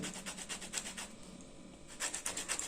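Orange peel is rubbed slowly against a grater to take off the zest, a soft rhythmic rasping in short repeated strokes, close and quiet, pausing briefly midway.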